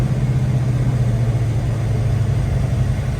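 A 1970 Chevrolet Chevelle SS 454 big-block V8, balanced and blueprinted, running with a deep steady low rumble, close and loud without speech.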